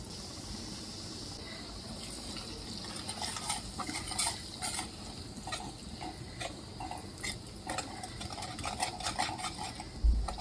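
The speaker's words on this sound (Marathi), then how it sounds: "चांगले तेलामध्ये मिक्स करून घ्यायचे" Spices being stirred into hot oil in a pan while cooking spicy Marathi katvada, with steady close sizzling under repeated scraping and clinking of a metal spoon against the pan.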